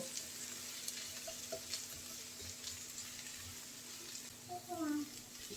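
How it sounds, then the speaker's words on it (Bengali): Pointed gourd and beaten egg fry together in a pan with a faint, steady sizzle, broken by a few soft clinks of a utensil. "ডিম পটল একসাথে ভালো করে মিলিয়ে নিয়েছি আর পটলটা ভাজাও হয়ে গিয়েছে"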